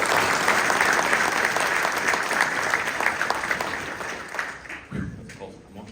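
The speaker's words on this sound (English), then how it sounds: "Could we give them a special round of applause" Concert audience at a school spring band concert applauding a student trio, dense clapping that swells then fades out over several seconds, with some voices mixed in.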